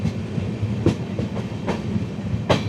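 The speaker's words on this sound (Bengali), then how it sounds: "দেখতে পাচ্ছ ট্রেন কিন্তু ট্র্যাক চেঞ্জ করছে।" Tebhaga Express LHB coaches crossing points while changing track near Eklakhi Junction: a steady rolling rumble broken by sharp, irregular clacks of wheels over rail joints, loud and close.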